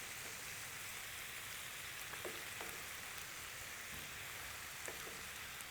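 Faint, steady sizzling and crackling of pasta cooking water hitting a hot frying pan, with occasional soft pops, close and continuous.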